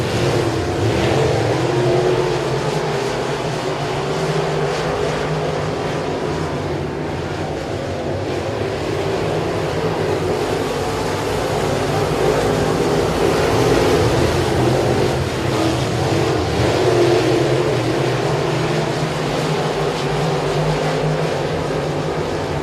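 Dirt track race cars run side by side at the Louisiana Dirt Track State Championship, their engines a loud sustained roar that swells and fades as the pack passes, with no voices over it.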